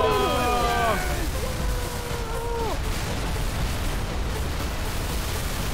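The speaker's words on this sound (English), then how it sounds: "More stuff in little room equals more explosion!" Explosion in Halo 3 from the MCC collection, a small room packed with objects blowing up, heard as a loud burst with falling tonal game effects and sustained rumble, excited players' voices briefly over the start.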